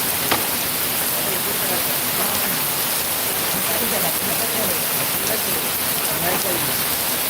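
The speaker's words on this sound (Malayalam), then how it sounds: "ആ മഴ പെയ്തുകൊണ്ടിരിക്കുന്ന ഇടയിൽ തന്നെ" Heavy rain pouring steadily in Hyderabad, a dense, even hiss of drops striking the ground and surfaces all around, loud and unbroken for the whole stretch, with no voices.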